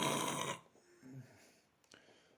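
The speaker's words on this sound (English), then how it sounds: "That was me snoring." A person dozing off gives a soft, faint snore with a snorting breath, following a brief louder burst of broadband noise at the start.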